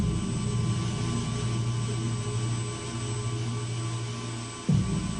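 Jet engines of a Falcon 50 business jet idle on the ground before takeoff, a steady loud drone with a high whine held for several seconds, then a brief bump and shift in tone near the end.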